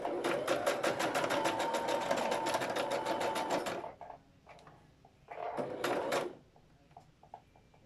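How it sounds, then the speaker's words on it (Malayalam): A sewing machine stitches fabric in a steady, loud run for about four seconds, pauses, then runs again in a shorter burst, with a few faint clicks between runs. "ഇനി സ്റ്റിച്ച് ചെയ്യാം."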